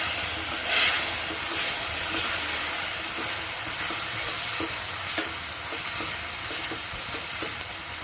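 Masala water sizzling and hissing steadily in a hot pan while mint rice is cooked, a loud, continuous close-up fry with occasional faint stirring taps and no talking.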